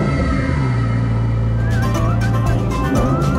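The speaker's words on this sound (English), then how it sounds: "first time starting the car in like, I don't know" A Lamborghini engine runs steadily at idle right after its first start in about a month, a close, constant low rumble with no talking.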